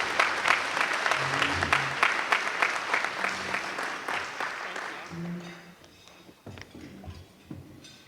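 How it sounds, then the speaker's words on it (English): A large audience applauds loudly and steadily to welcome a keynote speaker at a customer service event. The clapping fades over the last couple of seconds into a few scattered claps and quiet room noise. "put your hands together and welcome today's keynote speaker"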